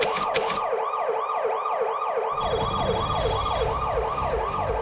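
A 119 fire engine siren wails in a steady repeating up-and-down sweep during an emergency dispatch through a narrow alley, loud and close, with a brief high hiss at the start and a rising engine rumble joining midway.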